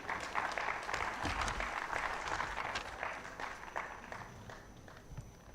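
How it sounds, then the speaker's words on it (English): Steady applause from an audience at a financial literacy quiz prize ceremony, with a dense patter of claps that holds for several seconds and then starts to thin toward the end. "Round of applause for both of them."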